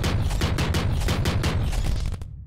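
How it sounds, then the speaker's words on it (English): Rapid shotgun blasts from a virtual weapon in the VR game Space Pirate Trainer, a dense run of about a dozen loud booming shots in quick rhythm, ending abruptly with a fading tail. "Shotgun."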